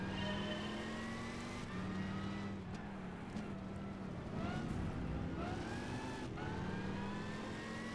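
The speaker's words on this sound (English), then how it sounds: "Okay, they're accelerating pretty quick." Historic racing cars in Gran Turismo 5 accelerating on a bumpy mountain course, a steady layered engine drone rising in pitch through repeated gear shifts, loud and continuous without a break.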